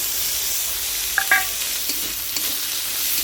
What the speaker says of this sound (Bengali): এখানে রসুন ভাজাটা হয়ে গেলে এর ভিতরে আমি দিয়ে দেবো লঙ্কা